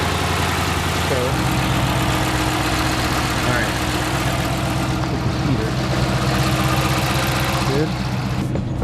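A Chrysler 300 idles in a driveway after a thermostat replacement, its engine a steady, loud, low rumble with an even mechanical beat throughout and no talking.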